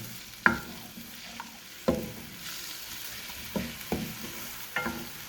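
Onions frying in half a cup of cooking oil in a kadai give a steady soft sizzle, broken by several sharp scrapes and clinks of a stirring spoon against the pan.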